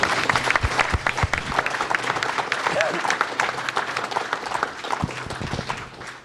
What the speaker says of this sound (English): Yes, everybody can applaud.